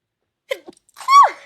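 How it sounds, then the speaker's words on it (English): A single loud sneeze, preceded by a couple of short sharp intakes of breath, with silence around it. "I gotta sneeze."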